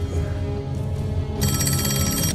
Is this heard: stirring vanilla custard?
no